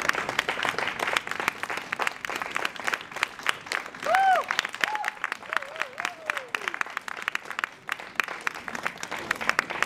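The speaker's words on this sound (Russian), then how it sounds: "под аплодисменты зрителей" Audience applause fills a tango festival hall as dancing couples circle the stage, a steady dense clapping throughout with a brief voice rising over it midway.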